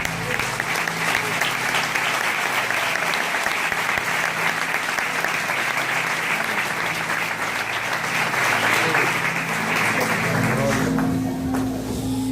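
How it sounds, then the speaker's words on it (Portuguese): A Pentecostal church congregation gives long, loud, sustained applause for Jesus, dense clapping throughout that fades slightly near the end, while a voice speaks over it. "Os que podem dar a Jesus uma linda salva de palmas"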